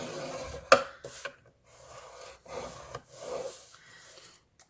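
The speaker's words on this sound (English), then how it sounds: "I'm going to start by scoring a 1/2 inch on the left side, going down long ways" Cardstock being scored on a scoreboard for a handmade card gift box: one sharp tap, then several soft scraping strokes of the scoring tool along the paper, close and fairly quiet, with no talking.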